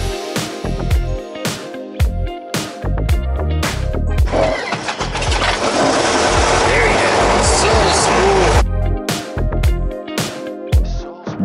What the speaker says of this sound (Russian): Движок так плавно запускается.